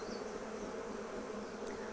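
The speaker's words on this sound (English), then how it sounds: "their buzzing is getting louder, which means they're getting tired of me" Honeybees at an open hive, worked with a little smoke during a frame check, hum in a steady, continuous buzz, fairly quiet and close, with no voices over it.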